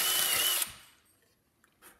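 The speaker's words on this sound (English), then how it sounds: "you get a 1/964 inch drill bit on your drill" A power drill with a tiny bit bores out the too-tight center hole of an Edison Diamond Disc record, loud and steady for about half a second before cutting off and fading to near silence.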